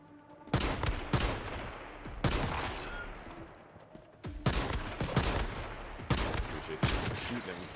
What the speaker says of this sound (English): Appreciate this shooting at me from across the map.